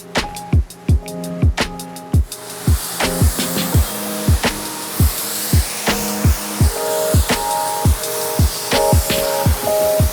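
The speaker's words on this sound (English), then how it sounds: "We got to wash out the bed pretty heavily and wash the top and this side" Pressure washer spraying down a Toyota Tundra pickup, a steady loud hiss broken by a rapid series of sharp mechanical clicks and pulses in an even rhythm.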